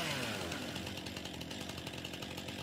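A chainsaw trimming tree limbs in the video game Farming Simulator 19, a loud, steady buzzing whine that runs without a break for the whole stretch, with no talk over it.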